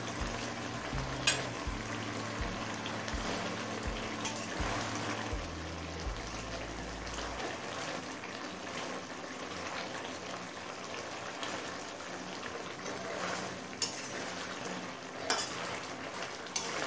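Chopped coriander is stirred into a frying amodi fish curry with potatoes, aubergine and onion, giving a steady close sizzle and crackle. A few low scraping bumps come early on, and no one speaks.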